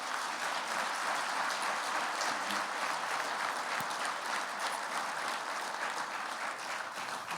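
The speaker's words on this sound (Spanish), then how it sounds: "Así que pueden aplaudirlos a ellos." A large congregation at an apostolic summit session claps steadily and loudly throughout, dense sustained applause with no break.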